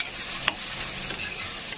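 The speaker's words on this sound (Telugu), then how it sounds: "ఉల్లిపాయలు అనేవి కిందన మాడకుండా ఉండడం కోసం మధ్యలో ఒకసారి ఇలా కలుపుకుంటూ ఉండాలి." Onions frying in a pan for pakodi curry are stirred so they don't scorch on the bottom: a steady close sizzle with a few sharp scraping clicks of the spoon.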